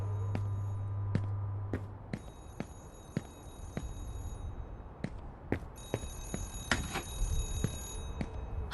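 A telephone rings behind a door in the horror video game Remothered, with repeated shrill bell bursts over a steady ambient hum and an occasional low rumble, a bit muffled.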